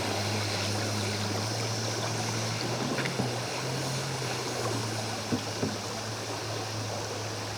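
A Pro Boat River Jet RC boat, 23 inches long, runs through a small rocky creek. Its steady motor whine holds over the constant rush of flowing water, with a few faint knocks, and no one speaks.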